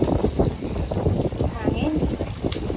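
Strong wind roars and buffets the microphone steadily outdoors, a constant blustery rush with brief gusts throughout.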